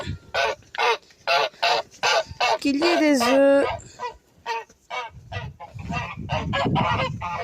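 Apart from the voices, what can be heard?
Toulouse geese honking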